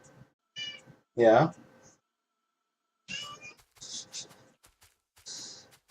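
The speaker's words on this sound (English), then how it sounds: "My cat's going nuts." A pet cat meowing indoors, with one loud, drawn-out meow near the start and several shorter, quieter meows later, while someone briefly speaks.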